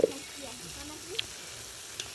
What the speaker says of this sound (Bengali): এখন চলছে ফ্রাইড রাইসের ভাজাভুজি